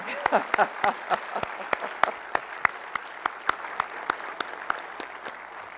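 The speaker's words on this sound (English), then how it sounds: "I think that deserves a round of applause." Audience applause at a Space Center Houston event honoring Apollo 17 legends and Artemis leaders, sharp individual claps ringing out clearly and steadily thinning to sparse scattered claps.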